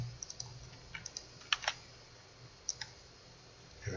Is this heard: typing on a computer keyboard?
yes